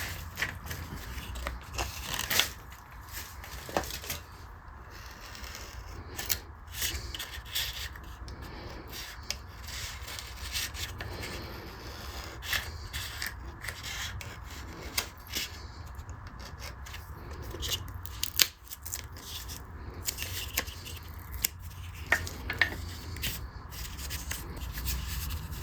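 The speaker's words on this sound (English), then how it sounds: "I'm going to trim away all the tape" Double-stick tape being trimmed while building a custom bass pickup gives quiet, intermittent scraping and cutting sounds in short irregular bursts, close by and faint, with no talking.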